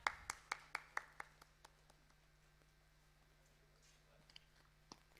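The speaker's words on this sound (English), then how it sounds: "Let's give a round of applause to everyone." At a congress opening ceremony, a handful of sharp, distinct claps ring out at the start and quickly thin to sparse, scattered claps in a quiet hall.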